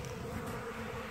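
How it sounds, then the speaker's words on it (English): Bees swarming over Ultra Bee pollen substitute outdoors, a dense, continuous buzzing hum from many insects at close range with no voices. "Bees are all over the Ultra Bee"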